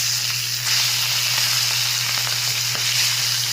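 Bullet tuna (tulingan) frying in hot oil, a steady dense sizzle with continuous crackle and a low steady hum beneath, close and even throughout with no talking.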